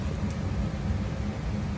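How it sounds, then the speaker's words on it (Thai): Heavy rain pours down in a dense, steady wash of noise that holds at an even level throughout, with no voices over it. "ฝนตกหนักมาก"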